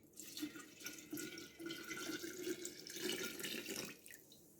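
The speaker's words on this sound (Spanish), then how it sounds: "colocamos los frutos procesados en un botellón de vidrio grueso y le agregamos 800 mililitros de agua sin cloro" Chlorine-free water pours steadily into a thick glass jug holding processed red cherry guava fruit for homemade wine, a continuous close splashing stream lasting about four seconds before tapering off.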